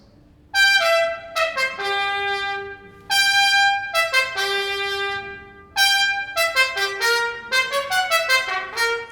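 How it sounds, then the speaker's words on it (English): A trumpet blares the angry Petrushka theme from Stravinsky's ballet in loud, bright bursts, three sharp attacks each followed by quick jagged note runs, close and with no voices. "So when you hear the trumpet like that, that's our angry Petrushka."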